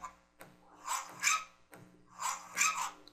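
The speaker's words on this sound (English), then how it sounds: "when I press the button, it starts barking" Recorded dog barks played back from a toggle button in a simple soundboard app: two bursts of several quick barks each, loud and close, separated by a short pause, with no voices.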